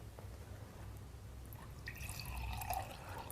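Tap water pours steadily into a container for an oil-and-water mixing test, a continuous close trickle and splash that grows slightly fuller toward the end, with no talk.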